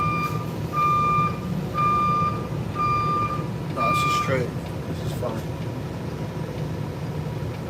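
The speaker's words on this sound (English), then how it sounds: "Hey, y'all hear that? I got a backup beeper." A truck's backup beeper sounds four evenly spaced reversing beeps at night, loud and close over the low rumble of the idling engine.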